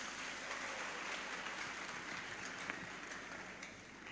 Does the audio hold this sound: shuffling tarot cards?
no